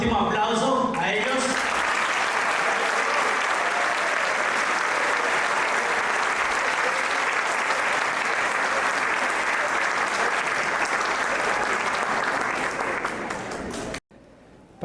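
Loud, sustained applause from a church audience at a Christmas dinner, honoring a children's choir; the dense clapping holds steady for most of the span, then cuts off abruptly near the end.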